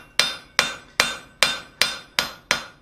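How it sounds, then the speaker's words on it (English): Steady, evenly spaced hammer blows ring out as steel is forged into a small mortice drift for mortice and tenon work. Seven sharp, loud metallic strikes land at a regular rhythm, each one followed by a short ringing decay. "So we'll just continue forging this out here."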